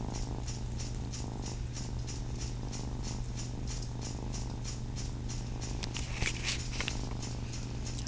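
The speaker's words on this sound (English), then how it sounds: "All of that purrings." A cat purrs steadily and close up during a bath, a continuous low rumbling rhythm that runs unbroken throughout, with faint handling noises and no speech.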